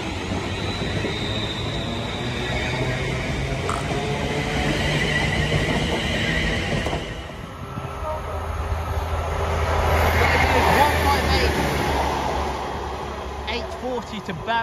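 A train, a Class 196 unit, passing through Sandwell & Dudley railway station: a steady rumble and rolling wheel noise that builds, then shifts to a louder passing drone. Someone talks over it.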